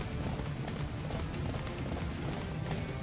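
Rapid, steady hoofbeats of a galloping horse in the video game Attack on Titan: Wings of Freedom, continuous and fairly close, with a dense low rumble underneath and no talking.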